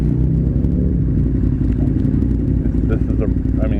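A KTM 1090 Adventure R motorcycle engine rumbles loudly and steadily close by, revving under sustained load with a dense low growl, while a voice talks over it.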